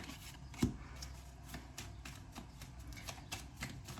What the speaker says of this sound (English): I am shuffling these cards.